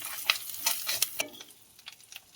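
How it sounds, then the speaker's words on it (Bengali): Spice paste with turmeric, salt and chili powder stir-fried for a shrimp and cucumber curry, with a soft sizzle and a few sharp scrapes of a spatula that thin out toward the end. "বন্ধুরা আমার মশলাটা কষানো হয়ে গেছে"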